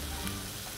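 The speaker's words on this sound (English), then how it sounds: "Nice bubbling, nice sizzling." A Philly cheese steak sizzles and crackles steadily on a hot Blackstone 22-inch griddle, a dense hiss of frying that continues for a moment without any talk.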